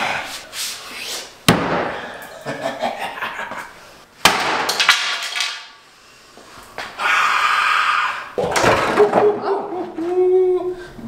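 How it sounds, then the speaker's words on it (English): Sledgehammer blows during home demolition, heard as a few loud, sharp crashing impacts with glassy debris, spaced by quieter scraping and clattering, with faint voices between the blows. "Time for the sledgehammer."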